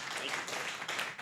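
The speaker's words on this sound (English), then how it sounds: "Applause to all of them." Audience applause at a Purdue Innovates university event, a brief burst of continuous clapping with no voices over it.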